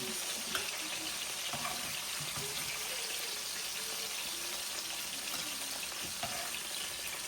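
Ham sizzles steadily in a hot pan while burgers are being cooked, a dense continuous crackle of frying fat with small pops, close and fairly quiet throughout.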